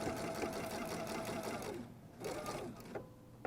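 A sewing machine stitches straight across a fabric box corner, a fast steady whirring patter for nearly two seconds, then short bursts of back-stitching with brief pauses between.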